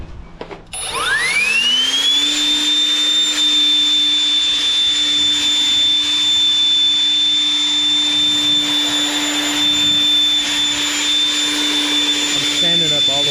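A powerful handheld blower spins up after a click and then runs loud and close, a steady high-pitched whine over a roaring rush of air that holds constant to the end.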